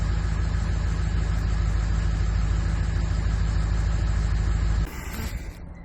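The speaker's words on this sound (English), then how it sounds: "as you can hear, the truck is running beautifully" A truck engine idles steadily with a loud, even rumble at close range for about five seconds, then the sound drops sharply and continues more quietly.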